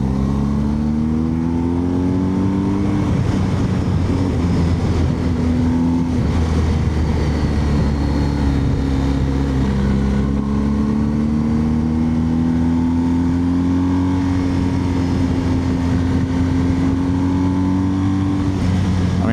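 A BMW R1250 GSA motorcycle accelerates in Dynamic Pro mode, its boxer engine climbing through the revs in rising sweeps across several gear changes, with steady wind rush throughout and no talking.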